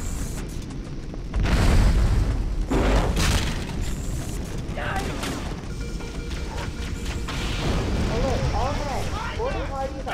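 Gunfire and booming impacts from a Halo CE match, loud shots and blasts running through the whole stretch while a player talks over the action.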